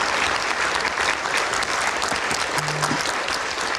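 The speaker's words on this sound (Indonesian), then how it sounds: "Baik, kita berikan tepuk tangan." Audience applause at a political discussion: dense, steady clapping from many hands, loud and close, lasting the whole stretch with no talk over it.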